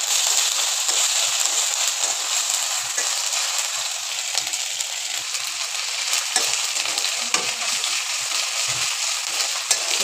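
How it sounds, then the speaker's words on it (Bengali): Ginger-garlic paste sizzles steadily in a pan with lightly fried onion, sounding as a loud, continuous crackling hiss, with scraping stir strokes and occasional clinks of the spoon throughout. "আদাটা একটু ভেজে নিব।"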